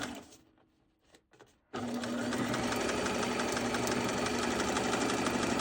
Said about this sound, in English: Back stitch, and then sew right across the top.